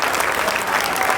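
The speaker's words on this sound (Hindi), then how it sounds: "जोर से ताली बजावल जाए" Audience applause at a political gathering honouring Purvanchal Morcha leaders in Delhi, a dense, steady clapping from a crowd that fills the whole short stretch without pause.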